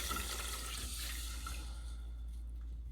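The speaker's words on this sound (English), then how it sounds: "I also added milk up to the 2-cup line. Now I'm just gonna pour it slowly." Milk pours slowly into gravy in a pan, a soft liquid trickle and splash, faint and close, fading toward the end.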